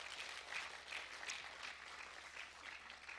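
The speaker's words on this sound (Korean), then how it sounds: "공감하시면 박수 한번 쳐보세요" Applause from a lecture audience in a hall, a faint, steady wash of many hands clapping, heard from some distance.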